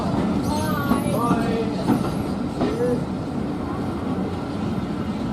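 Heritage railway train pulling away from the station at Bodiam, a steady broadband rumble with faint wheel squeals and clatter, continuous and moderately loud throughout, with wind noise in the background.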